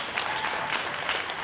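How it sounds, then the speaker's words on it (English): Audience at a live pitch competition event applauds for the title sponsor, Community Hospital Anderson: a short, fairly faint stretch of steady crowd clapping heard from some distance in a large room. "please get a round of applause for Community Hospital"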